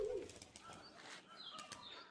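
A young high-flyer pigeon in training coos softly at mid distance, a brief low call followed by faint outdoor bird sounds and light background noise.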